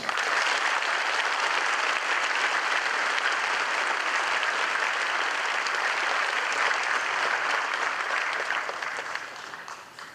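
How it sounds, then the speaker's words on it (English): A crowd at a 2nd Battalion, 19th Infantry Regiment ceremony gives the awardees a round of applause, a long, steady roar of clapping that holds for about ten seconds before easing off at the end. "Ladies and gentlemen, please join us in giving these fine awardees a round of applause."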